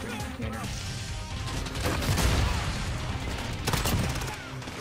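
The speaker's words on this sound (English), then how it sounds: "if I hit fire with this M4, it's so good." M4 rifle gunfire in the video game Modern Warfare rattles in dense automatic bursts with crashing impacts, loud and sustained across the mix, with a voice talking over part of it.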